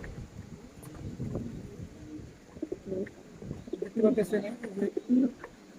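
Black Danish pigeons, a foreign breed, cooing in repeated soft throaty bursts close by, with someone talking intermittently over and between the calls.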